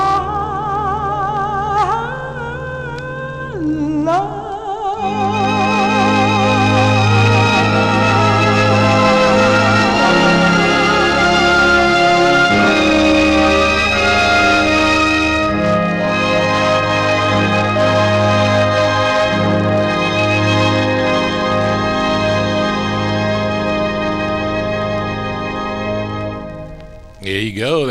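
A 1961 Everest 45 single spinning on a turntable: a lush orchestral ballad with a sustained female vocal over strings, loud and continuous throughout, no talking over it.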